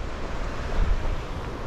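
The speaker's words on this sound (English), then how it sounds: "This is the River Usk" The River Usk flows near a canal basin in February, a steady broadband rush of moving water mixed with wind buffeting the microphone, constant and fairly loud with no speech.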